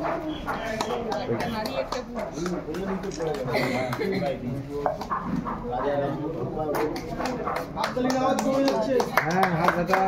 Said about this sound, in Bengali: জোরে জোরে জোরে হাততালি জোরে